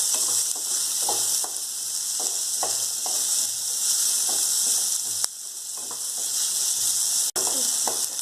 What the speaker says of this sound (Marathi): कांदा थोडंसं तांबूस होऊ द्यायचा।